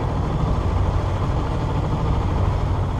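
A sailboat motoring under engine power between Les Embiez and Porquerolles, giving a steady, loud low drone with a constant rumble and no breaks throughout.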